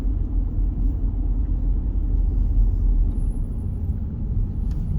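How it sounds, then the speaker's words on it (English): Car driving at about 30 km/h in a 30 zone, a steady low engine and road rumble heard from inside the cabin, with no speech. "we're going to drive 30 or under depending on the driving"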